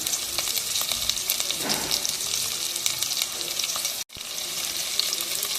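Shallots and curry leaves sautéing in a pan for vegetable mappas, a dense steady sizzle with light crackles and a brief scraping stir, cutting out for an instant before resuming.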